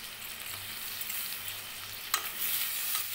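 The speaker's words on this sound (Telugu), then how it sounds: "దాని తర్వాత దీంట్లో నేను టమాటా వేస్తున్నాను" Tomato going into vegetable biryani masala frying with ginger-garlic paste in a pan, a quiet steady sizzle with one sharp clatter and a brief louder hiss near the end, no voices.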